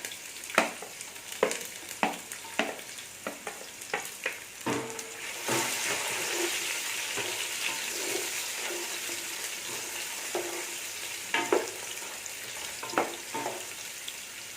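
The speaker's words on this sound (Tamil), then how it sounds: "வெங்காயம் நல்லா வதங்கிடுச்சு ப்ரௌன் ஆகிறதுக்கு முன்னாடியே தக்காளி பச்சை மிளகாய் ரெண்டுத்தையுமே போட்டோம்" Chopped onions sizzle steadily in hot oil for mutton biryani while a spoon scrapes and stirs the pan in sharp, irregular strokes, the frying hiss swelling midway and staying close and continuous.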